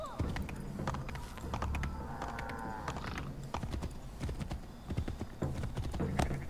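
Horse hooves clip-clopping at a gallop in the Assassin's Creed III video game, rapid hoofbeats with a heavy landing thud from a jump, moderately quiet under game sound.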